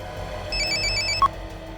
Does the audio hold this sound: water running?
no